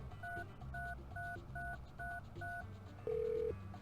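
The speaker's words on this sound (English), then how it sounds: "Now, you can, of course, press wrong buttons for the phone." Phone keypad buttons are pressed in the Spy Fox cartoon adventure game, giving six quick evenly spaced touch-tone beeps followed by one longer tone, clean and close with no talking.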